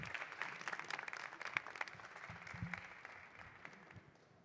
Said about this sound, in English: Can I have a warm applause, please?